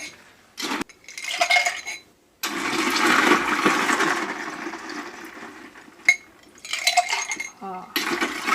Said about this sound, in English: when you hear the ice, it just sounds so yummy